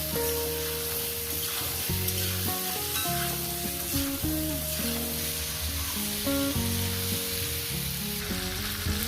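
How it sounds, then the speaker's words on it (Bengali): Potatoes fry in a pan for a lentil curry with vegetables, a constant loud sizzle with occasional stirring, while music with a melody plays throughout. "এটাকে দিয়ে দিয়ে আলুগুলো ভেজে নিচ্ছি"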